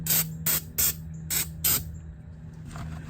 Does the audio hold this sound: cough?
no